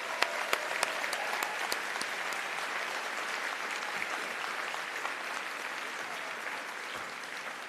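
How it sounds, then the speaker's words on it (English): Sustained audience applause fills the room at the 2022 British Book Awards ceremony, a dense steady patter of many hands with a few sharper claps standing out, carrying evenly throughout without talk. "Please give yourselves a huge round of applause."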